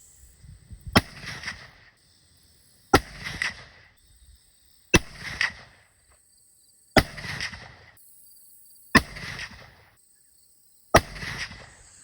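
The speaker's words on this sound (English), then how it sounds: "Let's get to shooting." Six muzzleloader shots fired with 777 powder pellets and Barnes 290-grain TEZ bullets at an outdoor range crack out at even two-second intervals, each a sharp report followed by a brief rumbling echo, with quiet between.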